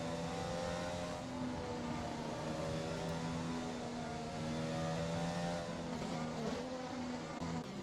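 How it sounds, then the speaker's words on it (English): An engine in a racing video game on the Baku circuit sounds with a steady, buzzing, glitchy rev. The whining tone holds at a fairly constant pitch and wavers slightly. It plays faintly with no speech. "And that's an awful rev glitch."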